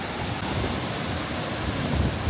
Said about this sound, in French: je suis le plus proche possible de la cascade